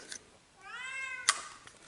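A cat lets out one clear, drawn-out meow in a quiet space near a Honda ATV under repair, followed by a brief click or knock.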